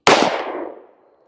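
A single sharp gunshot from a Ruger LC Charger pistol with a non-threaded barrel, firing 5.7x28 Hornady Critical Defense 40-grain ammunition, cracking loudly up close and ringing out in a decaying tail.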